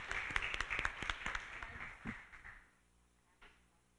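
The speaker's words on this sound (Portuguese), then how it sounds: "Uma salva de palmas também para o Kleber." Hand clapping from council members at a university council meeting, a fairly dense burst of claps for about two and a half seconds that quickly thins out and stops, leaving a quiet room with a single late clap.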